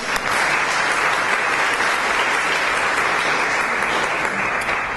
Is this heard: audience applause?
yes